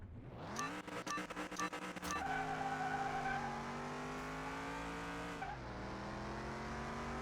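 Race car engine in the Car Mechanic Simulator 2021 video game revving hard against the handbrake, then launching and climbing through a long, loud, steady pull with no voices.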